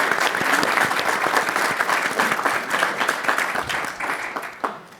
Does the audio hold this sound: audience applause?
yes